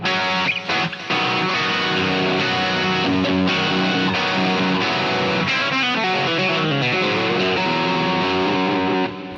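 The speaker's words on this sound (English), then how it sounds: "So this is what the distortion sounds like." Electric guitar played through a Boss ME-8 multi-effects unit on its DS-1 distortion model with the compressor on, loud buzzy chords and riffs ringing out continuously, alone and without talk.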